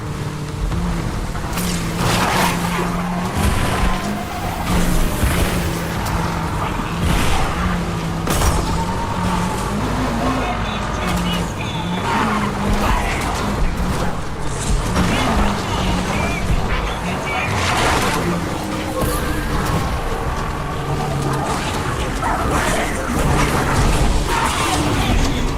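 A car drives and skids in the Ashes of the Damned video game, its engine droning continuously with shifting pitch amid busy game noise, while a voice talks over it.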